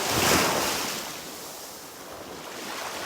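Sea waves on a long beach wash in a continuous broad roar, swelling loudly at the start and easing before building again, mixed with wind buffeting the microphone and no voices.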